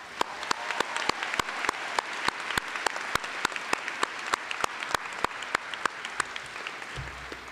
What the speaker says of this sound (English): Perhaps you could join me in applause for our faculty.